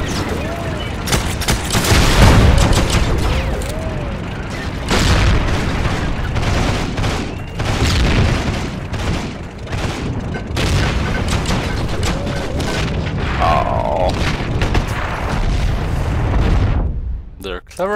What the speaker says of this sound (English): Clever enough to throw grenades.